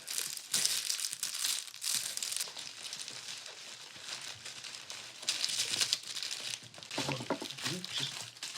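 Plastic packaging being torn and crinkled open in bursts of loud crackling and ripping, pausing briefly between efforts, close by and with no talk.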